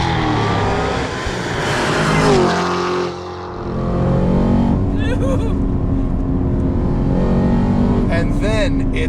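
A Hennessey-tuned 1,000-horsepower Cadillac CT5 Blackwing accelerates hard on the street, its engine roaring and rising in pitch through gear changes, loud and close, with excited voices talking over the noise.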